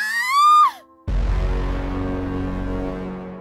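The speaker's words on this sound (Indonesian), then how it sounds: "Lalu, tampak suara teriakan wanita itu yang diserang oleh slime berwarna hijau." A woman's high, sustained scream as she is attacked by green slime, loud and wavering before breaking off, followed abruptly by a dense, heavy burst of low rumbling sound.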